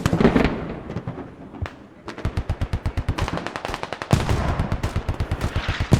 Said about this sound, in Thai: แล้วมีรถยิงมาครับ